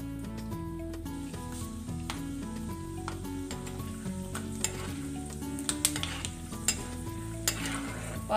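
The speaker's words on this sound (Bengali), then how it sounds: "চিনে বাদাম ভেজে নিচ্ছি" Peanuts fry in hot oil in a pan while cooking Bengali vegetable khichuri, giving a steady close sizzle with occasional stirring scrapes and soft background music underneath.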